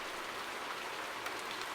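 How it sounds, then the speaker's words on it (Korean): Steady rain falls and patters evenly, heard through an open window, with no other sounds. "창문을 열자 빗소리가 더 크게 들렸습니다."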